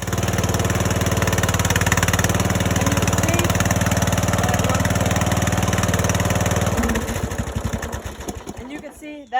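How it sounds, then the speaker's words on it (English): Briggs & Stratton single-cylinder small engine with freshly adjusted valves, running loud and steady at close range with a throbbing low drone, then changing pace and sputtering unevenly in the final seconds. "it started that motor right up with no problem, like it was smooth as a pie"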